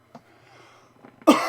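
A single sharp cough bursts out near the end, after faint quiet shuffling.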